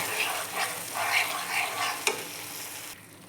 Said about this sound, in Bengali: এখন আমি এইটাকে অনবরত নাড়াতে থাকবো, না হলে বেসন আছে কড়াইতে লেগে যেতে পারে